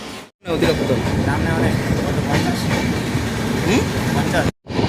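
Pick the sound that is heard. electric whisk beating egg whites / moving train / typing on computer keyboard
moving train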